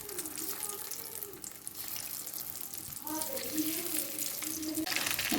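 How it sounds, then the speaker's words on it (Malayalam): Mushrooms frying in hot sunflower oil give a continuous crackling sizzle that grows louder and denser partway through, with a voice faintly audible underneath. "അതൊന്ന് ചൂടായതിന് ശേഷം നമ്മൾ കൂൺ ഇതിലോട്ട് ഇട്ട് ഫ്രൈ ചെയ്തെടുക്കാം"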